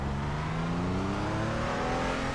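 A Porsche Cayman GT4 engine in iRacing at Sonoma accelerating hard, a loud, close, steadily rising engine tone climbing through the revs with no talk over it.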